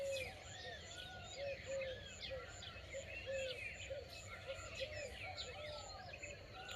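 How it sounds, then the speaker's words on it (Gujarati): Birds chirp and call in a mango orchard in the morning. Short, repeated tweets and whistles overlap from several directions, faint and somewhat distant over a soft outdoor hush, with no voices. "સરસ મજાના પક્ષી બોલે"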